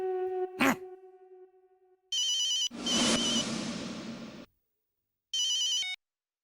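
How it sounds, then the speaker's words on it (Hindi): A telephone ringtone sounds in short repeated electronic bursts, loud and close, interrupted by a tonal flute-like note at the start and a longer noisy stretch in between. "हमारा फोन वो तो बजता ही रहता।"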